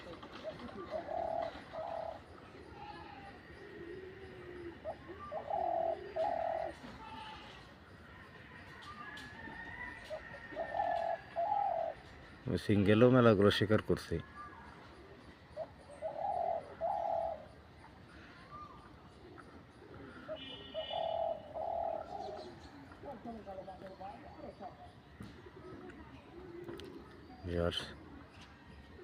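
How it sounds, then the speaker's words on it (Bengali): A decoy bird perched in a tree calls to lure game for hunting, giving repeated paired low coos at a steady interval while someone talks throughout. "5 মিনিটের কাছাকাছি উঠাইছি গাছে। দেখেন কেমন ডাকে।"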